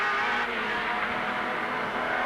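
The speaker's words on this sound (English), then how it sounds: "We could just listen to that engine." A Holden V8 touring race car engine roars steadily and loudly through a street-circuit race in Wellington, a dense, continuous engine drone with no clear pass-by and no audible talk.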